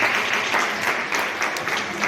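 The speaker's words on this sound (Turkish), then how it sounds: "Sabahattin'e bir alkış" An audience at a Turkish school event applauds a departing guest with steady, dense clapping that fills the whole stretch at moderate volume.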